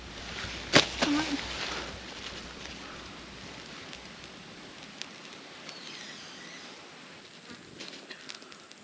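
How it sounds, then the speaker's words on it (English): Faint insect buzzing, fitting mosquitoes, hums steadily through a rainforest, with a brief louder knock and rustle near the start and soft distant ambience after. "because there is so much mosquitoes."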